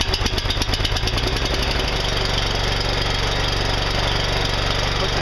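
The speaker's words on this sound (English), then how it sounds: "Starts right up." A tiller's small engine runs steadily after being started cold with the choke on, a loud continuous throbbing putter that settles into an even idle, with no talk over it.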